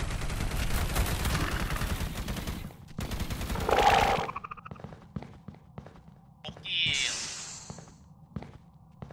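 Rapid bursts of video game gunfire with fast repeated shots, then sparse single pops and a whooshing effect, moderately loud with no talking.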